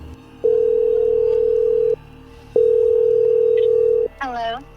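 A telephone line tone plays during a call: two long, steady, even beeps separated by a short gap, followed by a brief voice at the end.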